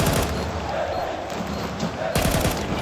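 Gunfire in Counter-Strike 2, heard as dense rapid bursts of shots during a tense fight in a playoff match, loud and continuous with a sharp burst near the end, and commentary voices underneath.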